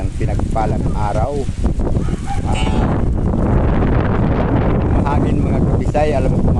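Strong wind blows across an outdoor construction site where concrete posts for roof beams have just been poured, a loud constant rumble buffeting the microphone while people talk over it.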